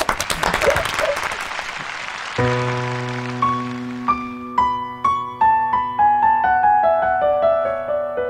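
A live audience claps to welcome a student performer at a Tainan music show, dense applause fading as the opening piano-like notes of a song begin to ring out.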